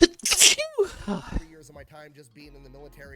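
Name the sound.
a sneeze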